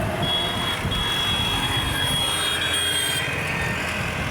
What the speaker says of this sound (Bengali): এখন আমরা রোড ওভারটেক করে চলে যাব।